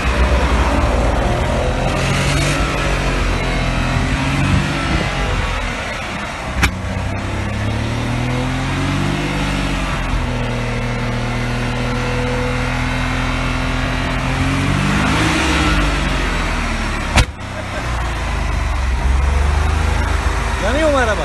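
A BMW 520 fitted with a new engine revs loudly and continuously up close, the pitch rising and falling in long sweeps with two sharp clicks, while people talk over it.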